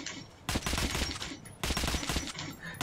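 Rapid automatic gunfire in the game Metro: Last Light comes in two loud bursts of about a second each, sharp and close, separated by a short pause.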